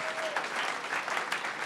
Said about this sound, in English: let's give a round of applause to Profound Studio.